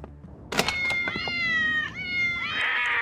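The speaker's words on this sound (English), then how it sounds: "Getting rid of all them cats." Cartoon cats meowing and caterwauling in an animated Mr. Bean episode, a bright thump followed by several long, wavering, overlapping yowls, loud and close.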